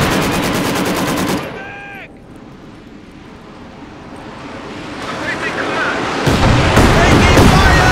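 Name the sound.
gunfire in the video game Company of Heroes 2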